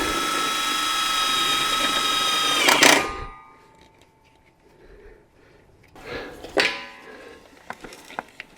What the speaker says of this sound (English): This drill is a hammer drill